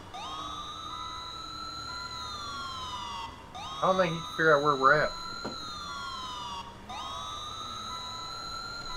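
A police car siren wails in repeated rising and falling sweeps, moderately close and steady, while someone talks over it midway.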